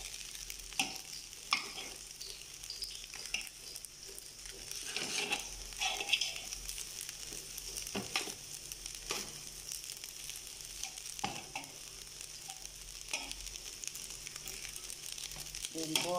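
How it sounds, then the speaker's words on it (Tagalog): Eggplant fries in a pan with a soft, continuous sizzle, broken by scattered clicks and scrapes of stirring, heard fairly quietly while fried rice cooks nearby. "Piniprito ko na rin po yung talong na sama sa pangulam natin."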